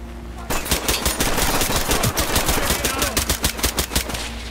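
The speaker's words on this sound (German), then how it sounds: "Das waren viele Schüsse." A rapid burst of automatic gunfire from a police tactical shooter, Ready Or Not, with dense, loud cracks fired in quick succession for several seconds, then tapering into a few scattered shots.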